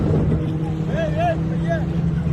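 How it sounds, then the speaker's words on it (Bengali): A boat being driven produces a loud, steady engine drone with heavy wind buffeting. Rising and falling vocal tones ride over the engine, and a voice is heard under the motor noise. "আমরা এখন চালাচ্ছি বোট।"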